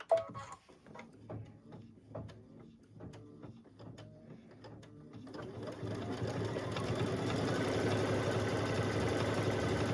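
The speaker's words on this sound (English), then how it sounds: "then it will do a tack down stitch all the way around" An embroidery sewing machine works a tack-down stitch on a barn quilt block, first with scattered, quiet clicks and taps, then settling after about six seconds into a steady, dense mechanical whir.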